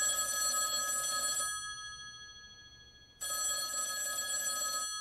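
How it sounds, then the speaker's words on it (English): An old-style telephone bell rings in two loud, bright bursts, the first lasting about a second and a half, then a pause of near silence before the second ring begins. "that phone over there is gonna ring"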